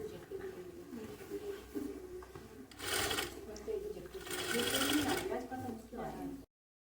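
A sewing machine stitches a jacket seam during a tailoring class, two bursts of rapid whirring stitching heard up close, with people talking faintly before and around it.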